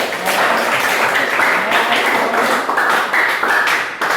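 Applause from a class during an on-the-job teaching session, a steady dense patter of many hands clapping close by for the whole stretch, with faint voices mixed in.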